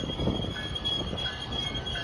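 A train rumbles into a station in Scarborough's Cliffside neighbourhood in Toronto, a loud continuous roll of wheels with a faint high whine on top, close by and without talk.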